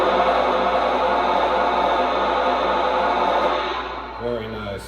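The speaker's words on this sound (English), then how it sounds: "Now here's the steam blowdown sound." A Lionel Western Maryland 1309 model steam locomotive plays its blowdown effect, a loud, steady hiss of escaping steam lasting about four seconds before fading out, followed by a brief voice.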